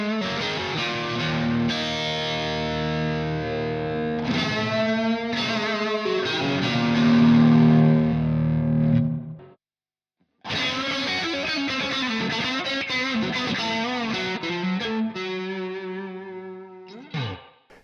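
Electric guitar played through an Empress Reverb pedal on its spring reverb presets, one based on a Fender Twin Reverb, one on a Fender Deluxe and one on a dirty 60s surf sound. Strummed chords and riffs ring out with splashy tails, broken by a short silent gap.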